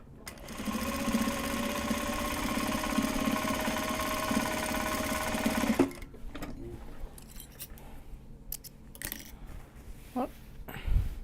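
A sewing machine stitches card holders made from Japanese fabric, running loud and steady for several seconds before stopping, followed by quieter handling clicks and rustles of the fabric.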